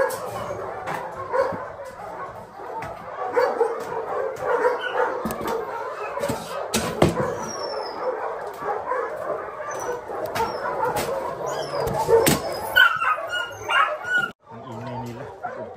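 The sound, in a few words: puppies yipping and barking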